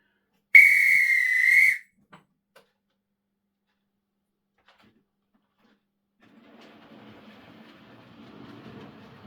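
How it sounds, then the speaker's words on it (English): A steam whistle from an 8F steam locomotive hauling three LMS coaches, a single loud blast of about a second, then near silence before faint, distant rolling rail noise builds slowly. "This time there is an 8F with 3 LMS coaches."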